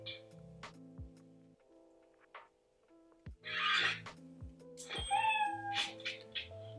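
Cat meows and electronic tones from a Nyan Cat's Rainbow lightsaber sound font play in short bursts, with a ticking pattern and several distinct meows toward the end, clear and close.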